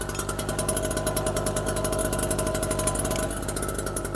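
A small, warmed-up petrol generator engine idles with a steady, rapid chugging pulse, close and fairly loud, running evenly throughout.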